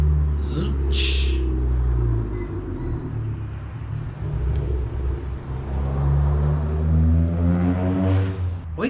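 A 1961 Chevrolet Parkwood wagon's exhaust rumbles loudly nearby, a deep steady idle that swells into revs, with brief voices over it at the start.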